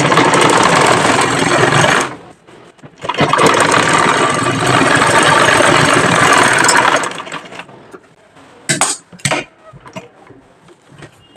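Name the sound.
sewing machine stitching a salwar seam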